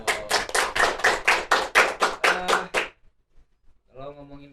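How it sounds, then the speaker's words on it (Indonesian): Audience applause at a podcast taping: a burst of about a dozen sharp, evenly spaced claps, fairly close, stopping abruptly after three seconds, followed by a brief voice. "Tepuk tangan dong."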